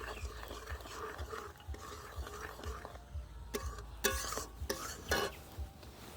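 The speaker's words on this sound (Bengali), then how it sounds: "একটু হলুদ পরিমাণ মতো এটাকে দিয়ে একটু নাড়িয়ে নিই" Turmeric is stirred into a fish curry in a pan, heard as faint scraping and clinking strokes of a utensil against the pan over a soft sizzle, with a few sharper scrapes toward the end.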